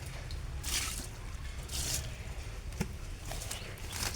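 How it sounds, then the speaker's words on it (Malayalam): Rice water is poured onto the soil at the base of an eggplant plant in a home garden, giving a few soft, brief splashing and trickling bursts, faint and fairly close, with quiet pauses between them. "ഇന്നത്തെ കഞ്ഞിവെള്ളവും അതിൻ്റെ കടക്കിൽ തന്നെ ഒഴിക്കും"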